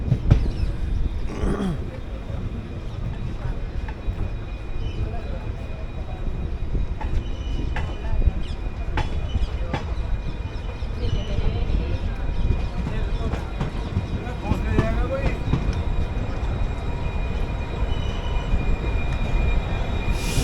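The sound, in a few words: train running, Runicha Express hauled by WDP locomotive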